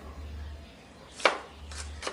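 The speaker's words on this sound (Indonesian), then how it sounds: "Motongnya itu bisa pakai pisau dirajang ataupun dikerus-kerus aja kayak gini." A knife cuts and scrapes banana blossom in a home kitchen, giving three short, fairly soft strokes spaced unevenly over a low background hum, with no talking.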